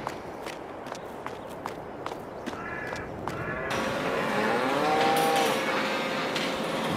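Holstein cattle in Farming Simulator 22 on a Missouri farm, with a run of regular hoof footsteps followed by drawn-out moos and lowing that rise to a steady, fairly close din in the second half.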